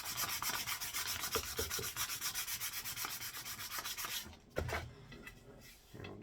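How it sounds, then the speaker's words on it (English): Sandpaper rubbed back and forth over a steel axe head to smooth out file marks, a steady rapid rasping rhythm of close strokes that slows and thins out toward the end. "We'll sand out all our file marks."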